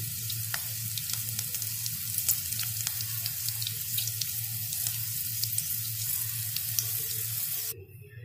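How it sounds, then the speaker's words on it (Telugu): Chilli fritters (mirchi) fry in oil on a low flame, giving a steady, close sizzle with crackling pops and a low hum beneath. The frying cuts off abruptly near the end. "ఒక్కొక్కదాన్ని ఫ్రై చేసుకుంటూ పోవాలి ఫ్రెండ్స్. ఇదంతా కూడా లో ఫ్లేమ్లోనే జరగాలి."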